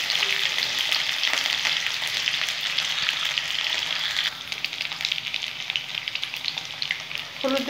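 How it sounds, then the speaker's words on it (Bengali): Potato pieces fry with turmeric in a hot pan, giving a loud, continuous oily sizzle with crackling spatters that dips slightly partway through and carries on without any talking. "একটু হলুদ দিয়ে ভেজে নেব।"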